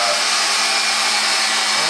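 An electric mixer whips to stiff peaks, a loud, continuous high-speed whirring hum that stays steady and up close throughout, with no one speaking.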